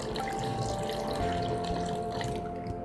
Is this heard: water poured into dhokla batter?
yes